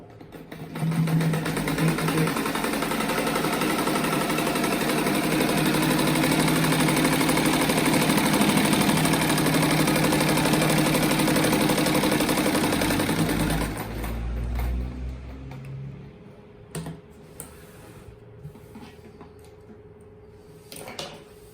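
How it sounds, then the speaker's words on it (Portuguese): Sewing machine running steadily as it stitches around the edges and through the middle of a fluffy rug for a children's room, a loud continuous whir for about fourteen seconds before stopping, leaving quieter handling noises. "eu vou passar uma costurinha assim, ó, nesses cantos aqui"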